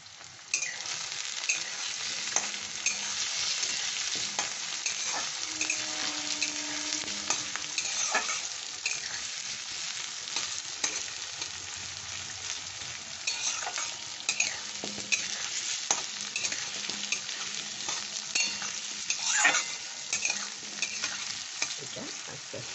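Chicken do pyaza with onions, cashew paste and green chilies being sautéed and stirred in a pan: a steady moderate sizzle broken by frequent scraping and clinking stir strokes, with no talking.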